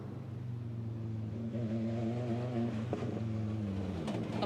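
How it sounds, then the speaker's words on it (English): An Audi five-cylinder Dakar rally car of about 420 horsepower drives through a forest rally stage at the 2024 Goodwood Festival of Speed. The engine drone is moderately distant and rises and shifts in pitch near the end. "A 5-cylinder engine, knocks out about 420 horsepower. But this in the forest, the sound of this in the forest,"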